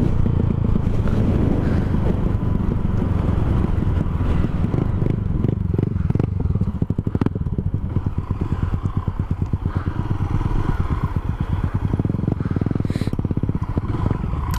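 A Honda Twister 250 motorcycle rides along a road, its engine buzzing continuously with a rapid pulsing beat and rising revs, close to the microphone with wind buffeting.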